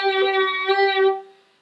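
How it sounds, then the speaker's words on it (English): A short violin note is played with uneven, irregular vibrato that wobbles unsteadily in pitch, close and solo, then fades quickly. "And if you make the right movement and you're doing it irregular, it sounds like this."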